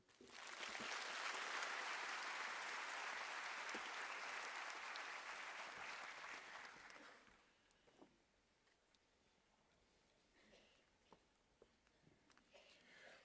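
Loud, dense applause from a large audience at a university graduation ceremony, sustained for about seven seconds before dropping off to scattered claps and faint room noise.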